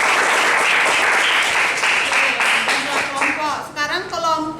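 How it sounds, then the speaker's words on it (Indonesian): A classroom of students applauds a student group after its presentation: loud, dense clapping that thins out toward the end as voices begin talking. "Beri tepuk tangan dulu untuk kelompok"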